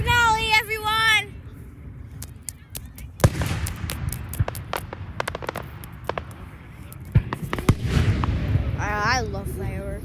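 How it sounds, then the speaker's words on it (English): A fireworks grand finale: a dense run of sharp bangs and crackles keeps going for most of the clip, with people talking at the start and again near the end. "I love fireworks."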